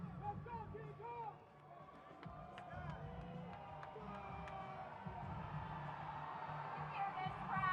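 A boxing weigh-in crowd for a heavyweight rematch cheers and whoops at a distance, a busy roar of shouts and whistles with voices rising and falling throughout, while a nearer voice talks over it.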